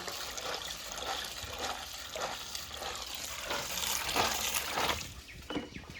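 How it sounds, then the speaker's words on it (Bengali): Vegetables are swished and rinsed in water for a fish recipe, giving continuous close splashing and trickling with repeated sloshing surges. "সবজি সব ধোয়া হয়ে গেছে"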